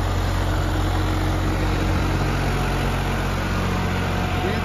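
A John Deere 5405 4WD tractor engine runs steadily at a constant idle-like drone, loud and close with a low rumbling hum, no speech over it.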